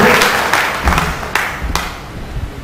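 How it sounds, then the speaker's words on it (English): A conference audience applauds a speaker at an Ignite talk session, a scattered wash of clapping with a few sharper claps standing out, moderately loud and slowly thinning toward the end. "Round of applause for Denzel"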